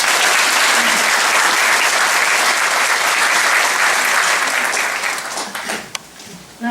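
Audience applause fills the room in a dense, sustained round of clapping, loud and steady for about five seconds before thinning out into a few scattered claps.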